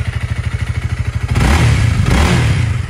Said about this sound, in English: 300cc single cylinder engine.